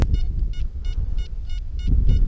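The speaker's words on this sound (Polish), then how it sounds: "I już kolejny sygnał" Metal detector signal beeping in a farm field during a relic hunt, a regular series of about seven short, evenly spaced electronic tones over low rumbling handling and wind noise, no talking.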